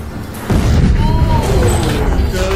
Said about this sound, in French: c'est une bombe fumigène, une explosion pyrotechnique